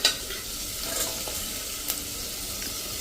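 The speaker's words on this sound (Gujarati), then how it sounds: "હવે આપણે ગાજર નાખી દેશું" Carrots hit hot oil in a tempering for a Saurashtra-style undhiyu, with a sharp clatter at the start, then a continuous close sizzle broken by occasional stirring scrapes and no talk.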